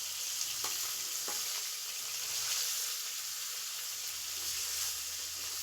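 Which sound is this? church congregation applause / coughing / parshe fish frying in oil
parshe fish frying in oil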